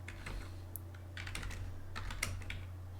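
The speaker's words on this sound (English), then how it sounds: "let's just type in a couple of simple commands" Keys clatter on a computer keyboard while commands are entered into CAM software help, a quick run of light clicks and taps over a steady low electrical hum.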